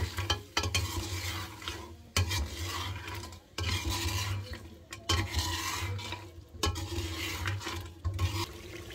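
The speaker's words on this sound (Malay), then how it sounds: "gaul rata sampai bangkit baunya ya" Ground chili paste sizzles in a pan while being stirred, a steady close frying hiss broken by repeated scraping strokes and short pauses, with no talking.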